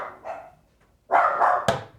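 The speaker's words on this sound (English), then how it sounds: "Even my dog is excited to see this one." A dog barks indoors near kitchen cabinet work, with a short yip, a pause, then a louder run of close barks ending in one sharp bark.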